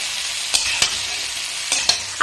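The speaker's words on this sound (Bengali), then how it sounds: "এখন ভালোভাবে এভাবে নেড়ে চেড়ে আবারও ভেজে নিতে হবে।" Kalai dal (black gram) dry-roasting in a pan, giving a steady bright sizzle broken by four or five sharp scraping stirs of the spoon, close up and with no voices.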